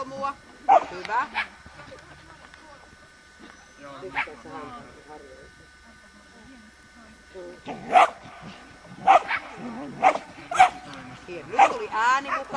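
A herding dog barks in sharp bursts while working a flock of sheep, the barks spread out and growing more frequent toward the end, with a trainer's voice talking between them.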